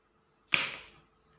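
An origami paper machine gun fires a single sharp, close crack that fades quickly, with no voices.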